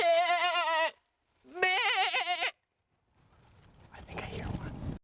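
A person imitates goat calls with two drawn-out, wavering bleats close by, followed by a burst of rustling, hissy noise that builds toward the end.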